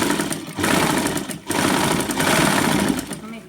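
Sewing machine stitching a lungi, running in bursts of steady mechanical whirring with a brief pause near the start and another mid-clip, loud and close throughout.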